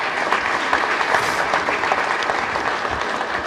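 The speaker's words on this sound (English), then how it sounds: "Let's give Lee a round of applause." Steady, full applause from an audience at a swine profitability conference after a talk on the hog industry, dense and sustained throughout without anyone speaking.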